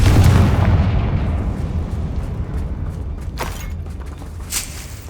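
A Confringo spell blasts in Hogwarts Legacy: one loud, deep explosion booms at the start and rumbles away over several seconds, followed by a couple of sharp crackling pops.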